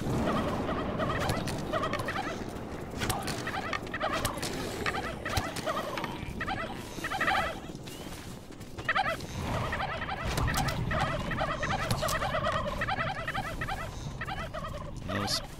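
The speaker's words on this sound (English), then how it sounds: "Them turkeys will get me." Turkeys gobble repeatedly in the survival video game How 2 Survive 2, a dense run of rattling, choppy calls filling the scene over game background noise.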